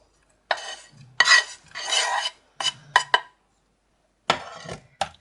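A spoon stirs fried onion and flour into meat gravy, giving several separate scraping and clinking strokes against a pot, some brief and some drawn out, with short silences between them.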